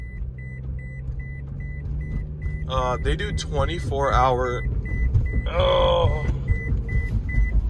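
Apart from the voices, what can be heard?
electric Jeep beeping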